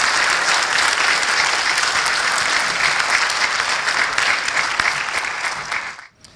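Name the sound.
audience applause at graduation ceremony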